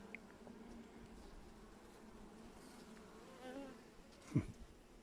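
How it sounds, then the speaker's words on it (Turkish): Carniolan honey bees buzz softly around an opened hive during an inspection, a faint steady hum with a brief louder pass near the end. "Evet karniyol arımız"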